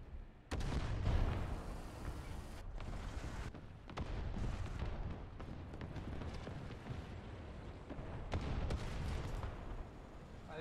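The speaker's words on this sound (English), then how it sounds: "somebody dropped 3 bombs on my head and I couldn't move because one of my tracks got destroyed" Heavy bombs exploding around a tank in a video game battle, deep booming blasts and rumbling debris in a dense, continuous roar, with several abrupt loud impacts.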